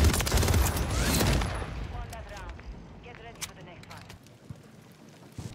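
Gunfire in the video game Call of Duty MW3, a dense rattling burst of shots up front that fades into scattered distant pops and thuds, with a player talking over it.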